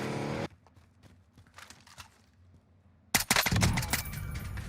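A Type 63 rifle fires in a video game, a sparse opening stretch of shots giving way to a loud dense burst of rapid gunfire near the end, close and punchy.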